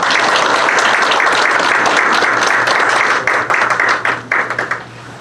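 An audience at a neighbourhood book concert in Wolpi-dong claps loudly to welcome a guest. The steady applause thins into scattered individual claps over the last couple of seconds, with a low hum underneath.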